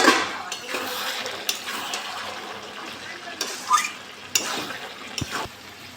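A cabbage, potato and vegetable curry stirred in a pan, soft scraping and occasional spatula knocks over a low background hiss, close but quiet.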